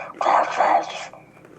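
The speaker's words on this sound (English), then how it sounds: "dog keeps sneezing" A Shih Tzu gives a single close, wet-sounding sneeze, a short snorting burst lasting about a second, followed by quiet.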